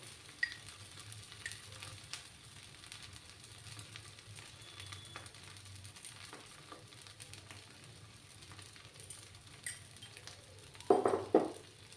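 Salted bean mash is stirred in a frying pan, heard as a faint, soft sizzle with quiet scraping, then a short clink of a utensil against the pan near the end.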